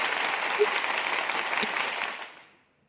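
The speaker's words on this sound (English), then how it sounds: "Let's give them a round of applause for that." Applause from an online crypto show audience after a ranking announcement, a steady broadband patter of clapping that holds evenly and then fades out in the final half second.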